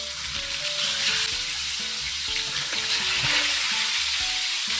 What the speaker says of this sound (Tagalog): Pirituin muna natin yung tilapia